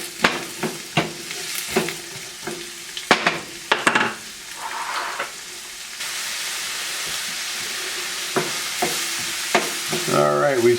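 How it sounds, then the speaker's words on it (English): Onions sauté in a pan for black bean curry, a steady sizzle broken by repeated sharp scrapes and knocks of a utensil as they are stirred, close and clear, with no talking. "we'll stir this up, let these saute a little bit"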